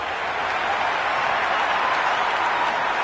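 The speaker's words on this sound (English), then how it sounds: "There's a buzz, a real buzz coming from the stands." Cricket spectators in the stands applaud and cheer, a steady dense wash of clapping and crowd roar holding at an even level throughout.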